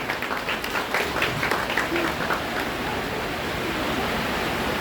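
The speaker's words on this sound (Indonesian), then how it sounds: "dari yang beri tepuk tangan dulu" An audience at a talk applauds, with a dense burst of clapping at the start that settles into a steady hiss of hands, fairly loud and heard on its own.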